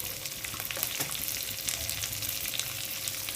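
Tomatoes and onions with salt sautéing in a pan for tomato thokku, a continuous moderate sizzle with occasional stirring clicks and scrapes, no voices.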